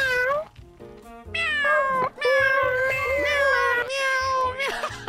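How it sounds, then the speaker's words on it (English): A cat meows several times in a row, with drawn-out, wavering cries that are loud and close and carry a strained, caterwauling tone. "Meow's in the chat."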